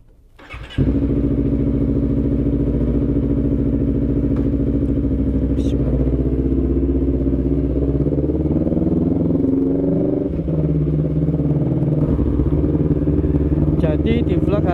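A motorcycle engine fires up and then revs steadily as it pulls away, loud and close, with the pitch rising and falling through the run and a few clanks at the start.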